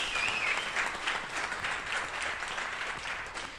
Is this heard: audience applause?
yes